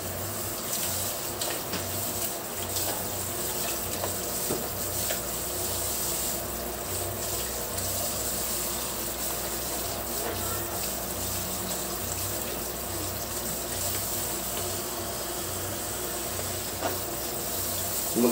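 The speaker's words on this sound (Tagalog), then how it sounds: "Maglagay din tayo ng kunting tubig" A steady stream of water runs and splashes continuously into a cooking pot, close and even, with no voices.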